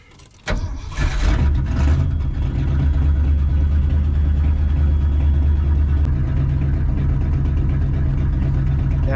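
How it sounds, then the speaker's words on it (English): A 1967 Ford F250 crew cab truck engine cranks briefly, catches and fires up, then settles into a steady, loud, rumbling idle on half choke that continues to the end. "Let's see if it'll fire back up."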